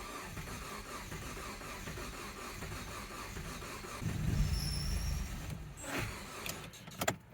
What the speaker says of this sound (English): She's spinning, but she's not firing